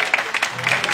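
Audience clapping at a tribute concert for a late songwriter, a short burst of dense, lively applause from a crowd close by.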